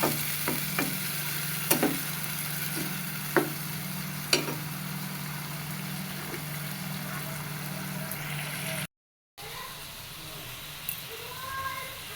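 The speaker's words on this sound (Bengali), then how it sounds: "হালকা একটু জল দিয়ে এবার তরকারিটা ভালো করে কষায় নেব" Curry being sautéed and stirred in a pan with a little added water, a quiet steady sizzle broken by scattered clinks and scrapes of a spoon, with a brief voice near the end after a short gap.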